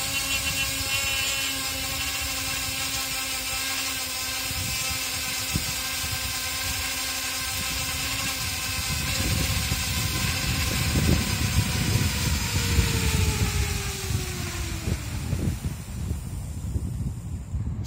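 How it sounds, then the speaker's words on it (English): Small electric motors of a 13-inch DC-5 twin-engine free flight model plane whine steadily with layered tones, then slow and fall in pitch as they run down near the end, alone without talk. "So you press the button and it starts the motors."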